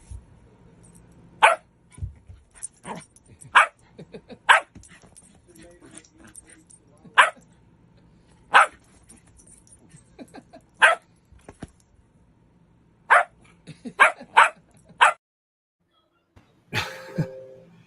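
A dog barks in a home studio, sharp single barks scattered irregularly over several seconds, some in quick clusters, loud and close against a quiet room, with a brief rustling noise near the end.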